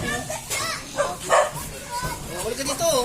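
A few short barks from a family's pet dog ring out amid children's chatter and adult voices, the yaps coming in brief bursts under ongoing talk outdoors.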